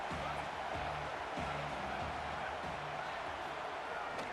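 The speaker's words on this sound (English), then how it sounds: "These fans are going absolutely nuts." Roaring stadium crowd in a college football video game, a dense, steady wash of loud cheering filling the whole stretch without letup, with low rhythmic thumps pulsing underneath.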